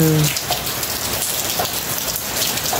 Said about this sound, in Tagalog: Maulan kami ngayon.